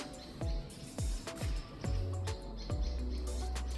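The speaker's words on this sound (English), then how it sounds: "Forgive all these bird sounds you hear." Birds chirp outside an open window, repeating short tweets in a steady rhythm, clear and fairly close, over a low background hum.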